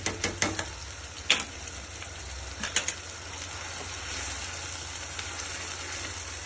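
Onion frying in oil in a pan with ginger paste, cooking toward golden for a rohu fish kalia: a soft, continuous sizzle. A few sharp scrapes and clinks of a spatula sound near the start, and no one speaks.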